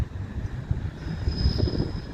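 Train moving backwards through Doncaster station, a steady low rumble of wheels and engine with a thin high squeal drawn out midway, heard from the platform at moderate distance.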